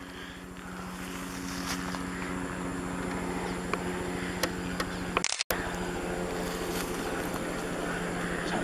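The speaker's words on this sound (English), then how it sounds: "That's a dang helicopter. He's flying low, too." A low-flying helicopter near a railroad bridge gives a steady rhythmic rotor thump that holds throughout, with no talk.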